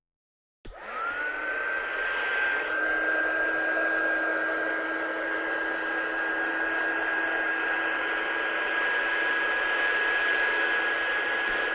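Hair dryer switched on abruptly to dry a freshly painted surface in a studio, a loud steady whine and airy rush holding constant to the end, no talk.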